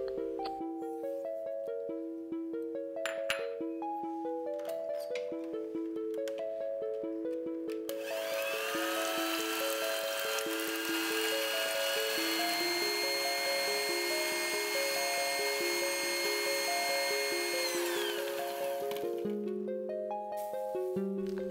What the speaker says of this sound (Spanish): Batir los huevos con el azúcar.